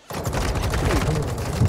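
Rapid, loud shotgun blasts from a KV Broadside in Call of Duty Warzone 2.0 fire close by in a dense barrage throughout, with a voice talking over the gunfire.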